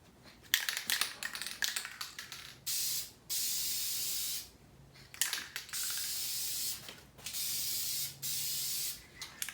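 Short and long bursts of hiss from a spray can being sprayed in a garage alternate with clicks and rattles of handling, loud and close by.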